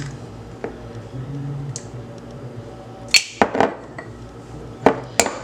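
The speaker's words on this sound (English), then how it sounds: "I'm gonna break my eggs and add my eggs in there" Eggs are cracked one at a time for a fresh pumpkin pie batter, heard as several close, sharp taps and cracks clustered near the end, over a quiet kitchen background with faint, distant voices.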